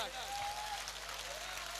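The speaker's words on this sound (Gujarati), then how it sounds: "2 હાથ ઉપર કરીને તાળીઓનો ગગડાટ" An audience applauds at a lucky-draw event in Bhuj, Kutch, with dense, steady clapping that stays fairly faint and brief throughout.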